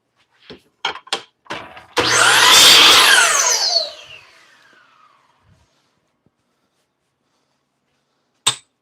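A piece of wood is trimmed on a lathe held in a chuck: a few sharp taps, then a loud harsh cutting burst of about two seconds that fades into a descending whine, followed by quiet and a final click.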